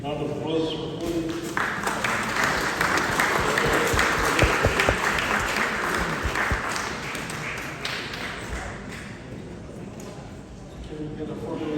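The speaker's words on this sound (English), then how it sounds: "Round of applause for Woody." Audience at a medical symposium breaks into sustained applause lasting around ten seconds, dense and steady before tapering off, with some voices audible in the room.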